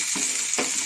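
Onions frying in a pan for a sandwich: a close, steady sizzling hiss with two soft stirring bumps a half second apart.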